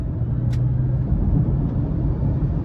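A 2022 Kia Niro EV EX Premium accelerating in eco mode on a test drive, heard from inside as a low steady road and motor rumble with a soft whine, continuous and fairly loud, no talking.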